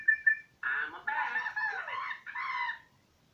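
Video game chicken from New Super Mario Bros Wii squawking in a short series of loud honking, clucking calls after a brief high tone, ending in silence.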